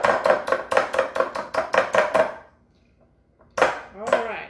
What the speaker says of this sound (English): we're going to beat this up real good